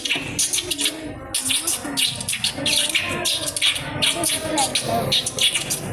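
Lovebirds at a shop are imitated by a voice, giving rapid, bright chirps and twitters in repeated bursts with short gaps, close and lively throughout.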